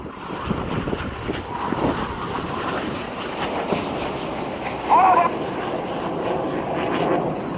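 Red Arrows jets performing at the Bournemouth Air Festival produce a steady, distant roar that holds for several seconds, mixed with wind buffeting the microphone outdoors.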